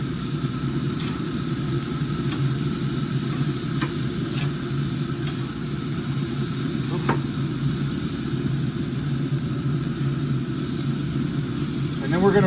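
Maple bacon burgers sizzle on a smoker grill after being flipped, a constant close frying hiss with a few faint clicks, running under a voice.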